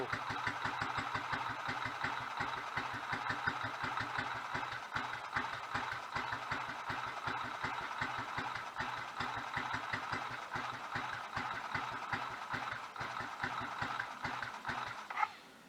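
A Royal Enfield 500 motorcycle engine idles close by with a rapid, steady ticking rhythm, running evenly throughout before cutting off abruptly at the end.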